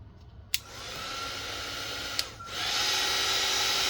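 A hair dryer blows on a fabric ruffle with a steady, loud whooshing whine. A sharp click starts it, a second click follows, and the airflow then rises into a stronger, brighter roar.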